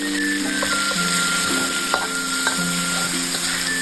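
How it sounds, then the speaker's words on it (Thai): Garlic and pork stir-frying in a pan: a loud, continuous sizzle up close with scraping stir strokes and a few small clicks, over a faint steady tone, and no voices. "ผัดให้กระเทียมมีกลิ่นหอมๆแล้วก็ตามไปด้วยหมูเลย"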